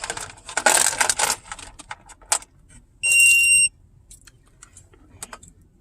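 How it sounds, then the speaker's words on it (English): A Zmoon tire pressure monitor in a car gives one short, piercing electronic beep of under a second, after clattering, jangling handling noises. "I think my front right tire is low, so that's why I gave that alarm out"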